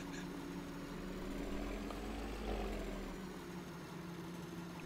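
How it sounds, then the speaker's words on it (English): Tractor engine droning steadily in Farming Simulator 2013, a continuous low, even rumble with a faint idle-like hum that holds at a constant moderate level throughout, with no speech. "I'm just going to keep driving my tractor"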